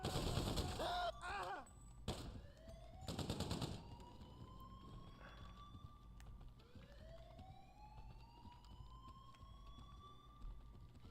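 Gunfire in GTA Online, a few loud rapid bursts early on, followed by rising and falling sirens wailing through the rest of the game scene.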